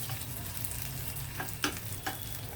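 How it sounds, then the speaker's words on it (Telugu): Dried red chillies fry in a pan of hot oil for a vegetable dish, giving a steady, quiet sizzle with a few soft stirring scrapes and light crackles. No one speaks. "ఇప్పుడు ఎండుమిర్చి వేసేద్దాం"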